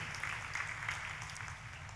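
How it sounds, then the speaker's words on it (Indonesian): A church congregation applauds during a sermon, a steady soft wash of many hands clapping, heard distant and faint throughout. "Ayo sekali lagi tepuk tangannya pula yang paling meriah buat Tuhan kita."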